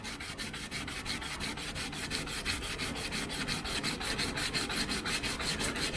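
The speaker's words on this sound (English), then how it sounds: "as I start to sand it, you can see the paint just falls off around where the corrosion is" Hand sanding strips corroded paint from a body panel of a 1971 Range Rover, a fast, even back-and-forth rasp repeating in steady strokes, close and continuous.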